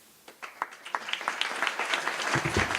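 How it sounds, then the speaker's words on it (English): Audience applause at a Denver community gathering, starting with a few separate claps and building into fuller clapping from the crowd by the end. "Another just round of applause for this amazing community and its organizers, its advocates."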